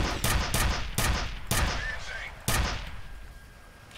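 Repeated bursts of gunfire in a video game shooter, sharp broadband shots at roughly half-second intervals with a longer decaying blast near the end, loud and close, with faint voice chatter under the shots.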